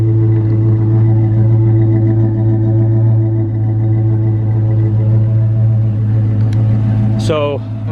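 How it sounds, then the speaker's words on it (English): An air suspension compressor under the rear wheel well of a Dodge Magnum R/T with a 5.7L Hemi runs as a steady, loud droning hum, then a brief whine near the end as it cuts off. "I can hear the air compressor kicking on."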